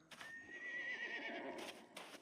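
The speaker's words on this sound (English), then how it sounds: "Wait, it sounds like that horse is like already" A single long whinny from a horse in the video game SCUM, with a few short thuds and clicks before it and after it.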